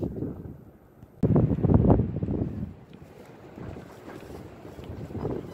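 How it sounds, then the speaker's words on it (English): Strong wind blowing outdoors in a garden on a cold day, gusting and buffeting the microphone with a loud rumbling roar that surges, eases, and swells again. "In spite of this wind,"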